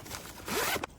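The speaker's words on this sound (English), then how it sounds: "On this side, on the original side, it has a little zipper here." A small zipper on the expandable side of a hardshell suitcase is pulled in one quick, close zip lasting under a second, heard alone.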